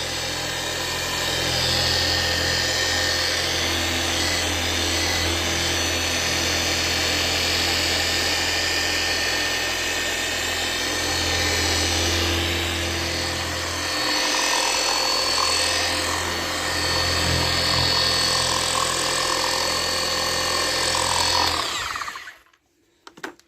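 A power polisher fitted with a firm sponge pad runs steadily on a car headlight during restoration, a loud continuous whine held for about twenty seconds before cutting off abruptly at the end.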